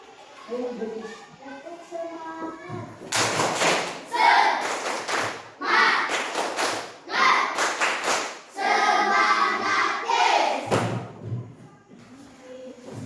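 A class in a classroom claps a rhythmic cheer pattern in unison, quick bursts of claps separated by short pauses, with children's voices chanting along.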